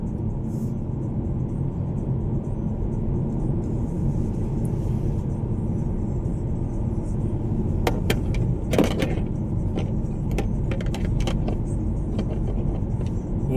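A car rolls slowly along a hillside road beside a railway line on pillars, its steady engine and road rumble continuous and close, with a few faint clicks partway through.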